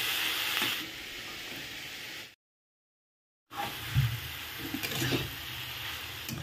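Light frying sizzle from tomatoes and chillies in a pan, a steady hiss that drops out completely for about a second, then comes back with a few soft stirring bumps.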